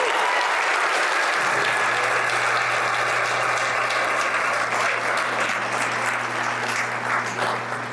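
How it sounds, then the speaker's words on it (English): Sustained applause from a sizable crowd, steady clapping throughout with a low hum rising beneath it partway in. "please give a loud round of applause for Dr."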